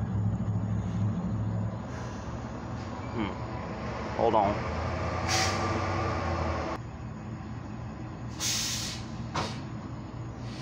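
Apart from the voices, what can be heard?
truck passing by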